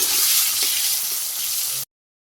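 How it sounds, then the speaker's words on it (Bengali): Eggplant slices coated in turmeric, chili and salt frying in hot oil, a loud dense sizzle that holds steady, then cuts off abruptly. "বেগুন দিয়ে দিতেছি সেই গরম হয়ে গেছে বেগুন ভাজি করে খেয়ে নিই"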